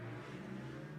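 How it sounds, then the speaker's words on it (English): A motorbike engine drones steadily at a distance, a low rumbling hum with no voices over it. "Apologies for that motorbike sound."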